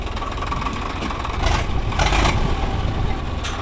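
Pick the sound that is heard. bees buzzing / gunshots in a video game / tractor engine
tractor engine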